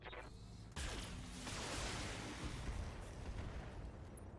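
Mechs firing weapons in the BattleTech: Flashpoint video game: a sudden heavy burst of booming fire breaks in, then rolls on as a dense, rumbling barrage.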